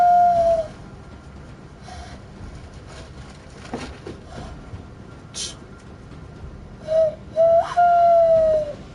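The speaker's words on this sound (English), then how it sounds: "and the owl out there talking" An owl hoots outside at night: a short whistled call at the start and a couple more near the end, over faint steady background noise.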